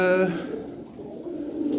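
Pigeons in a hobby loft coo close by, one clear throaty call at the start followed by softer murmuring coos from the flock.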